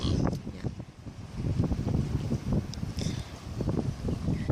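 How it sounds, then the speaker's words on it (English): Gusty wind at Long Beach, New Jersey buffets the microphone in low, uneven rumbling bursts that rise and fall, with no voices heard. "And it's windy here."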